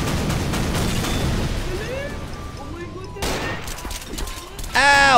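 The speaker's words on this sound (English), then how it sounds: "there's explosions going off everywhere" Chaotic Garry's Mod DarkRP combat: rapid bursts of gunfire and booming explosions, with a sharp loud blast near the end and a person's voice reacting between them.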